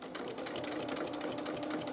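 Close, steady whirring of a sewing machine stitching doll-sized overalls, one continuous run with no voices.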